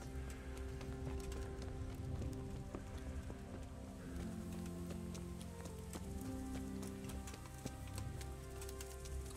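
Horses walk in the medieval video game Kingdom Come: Deliverance, their hooves clip-clopping in a steady, irregular rhythm over a continuous bed of rain-like ambient noise and light music.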